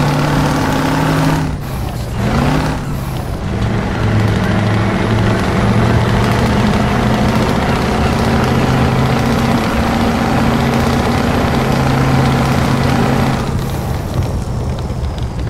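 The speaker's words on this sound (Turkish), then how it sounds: "Hem lastik sesi, toprak sesi, hem aracın motor sesi." Vehicle driving along a snowy dirt road, with a steady loud engine drone and the rumble of tyres on snow and earth, captured close to the wheels; a brief bump disturbs the sound early on.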